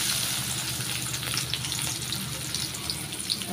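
Chopped onion frying in oil in a wok, a steady, even sizzle that holds at a constant level for the whole stretch, with no voices over it.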